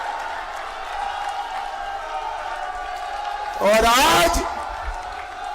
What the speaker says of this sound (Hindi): ताली बजाओ अरविंद जी के लिए जोर से